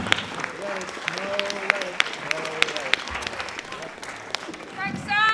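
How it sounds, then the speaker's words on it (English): Scattered, moderately loud applause from the audience at a spoken-word poetry event, with a speaking voice running through it. "Big more round of applause for Sam, please."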